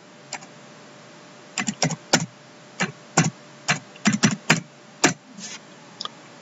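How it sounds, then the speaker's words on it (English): Irregular clusters of crisp keystrokes on a computer keyboard while an IP address is typed, close and clear over a quiet background, with short pauses between bursts. "system command, and you type in"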